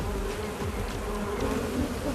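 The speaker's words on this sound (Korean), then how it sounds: "벌통을 열 때마다 벌들의 움직임도 제각각 이유가 다 있다는군요." Honeybees buzzing around an opened beehive, a dense, continuous close hum of many bees with a steady low drone and no voices.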